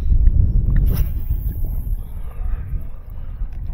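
Strong headwind gusting outdoors, buffeting the microphone with loud low rumbling that swells and eases continuously, no speech.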